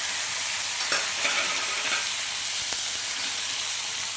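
Onion, tomato and curry leaves, added after cinnamon and cloves, sauté in a pan with a dense, close sizzle and a few soft stirring scrapes, continuous throughout.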